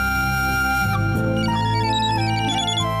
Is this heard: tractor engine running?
no